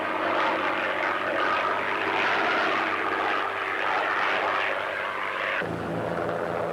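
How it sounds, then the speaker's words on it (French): An SO 93 postal aircraft with tricycle landing gear flies past, its propeller engine making a loud, steady droning roar that holds for several seconds and shifts lower near the end. "Le SO 93, avion postal, équipé d'un train d'atterrissage tricycle, est destiné aux liaisons continentales."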